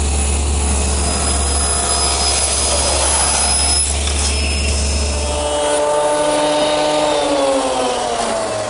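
A jointer planes wooden table legs with a continuous, loud, close mechanical whine and hum that shifts in pitch partway through as the cut changes.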